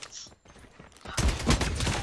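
AK47 gunfire in the mobile shooter Call of Duty Mobile, a loud rapid burst of automatic shots in the second half after quieter game sounds.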